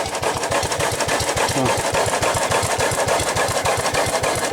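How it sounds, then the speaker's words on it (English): A small 4-horsepower stationary engine chugs steadily at close range, its rapid regular firing beats forming an even, unbroken rhythm with no voices. "That's a good running engine."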